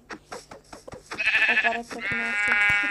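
A Minecraft sheep bleats: a string of short clicks and taps gives way to two drawn-out, nasal in-game bleats, close and clear, the second held longer.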